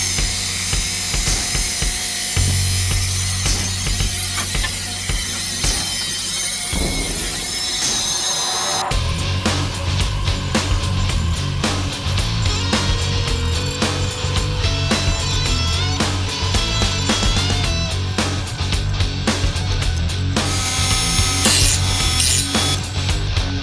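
A Dremel rotary tool fitted with a grinding stone bit grinds against a power supply case for an Elegoo Neptune 2S 3D printer. The grinding is loud and continuous, its pitch shifting as the load changes, with no talking.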